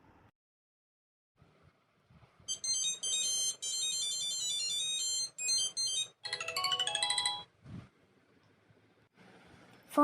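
A phone rings with a bright electronic melody of repeated high tones in two bursts, loud and alone, inside a quiet room before the ringing stops.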